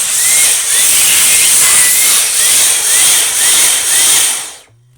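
Dyson DC49 cordless vacuum cleaner running with a loud, steady high-pitched whine and hiss that pulses rhythmically about once a second, cutting off abruptly near the end.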